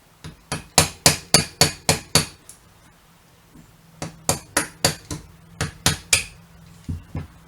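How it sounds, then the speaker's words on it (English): A small tool lightly taps on a Kawasaki Vulcan 800 carburetor float part, making crisp metallic ticks in quick, evenly spaced runs of about eight to nine strikes, separated by short pauses, close and clear. "you don't want to tap this hard at all, just enough"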